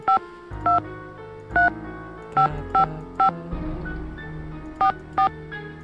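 Telephone keypad tones sound in the Nancy Drew video game Message in a Haunted Mansion. A series of short, separate dialing beeps arrives at an uneven pace over a low background hum, and no one speaks.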